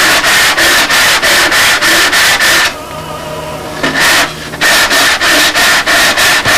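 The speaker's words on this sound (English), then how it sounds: "any sanding block that's got a 90-degree cut, you can true up the tips" A sanding block with a 90-degree cut rubs back and forth on wood while truing up a control-line model airplane's wingtips, giving loud, rapid, rhythmic strokes with a short pause midway, no talking.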